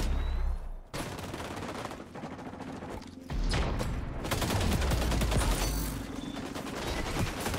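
Rapid bursts of AK rifle fire in the shooter game XDefiant crackle loudly and close, with brief pauses between volleys and mechanical clatter mixed in.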